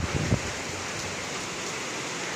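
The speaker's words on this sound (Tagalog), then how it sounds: "Ayan, kagaya dito, yan, umuulan ngayon." Steady broadband hiss of rain falling in a light shower, continuous and even throughout with a couple of brief low knocks near the start.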